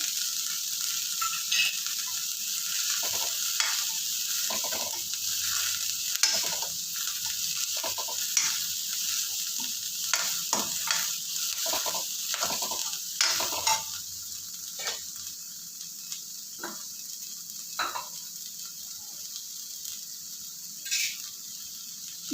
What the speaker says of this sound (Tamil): ஒரு ஆறு கருவேப்பிலை போட்டுக்கிறேன்